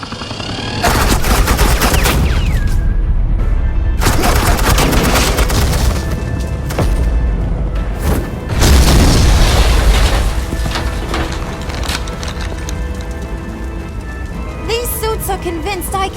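Dense suppressing gunfire rattles through a Batman: The Enemy Within scene, with loud rapid bursts and heavy booms running almost without a break and a scattered crackle near the end.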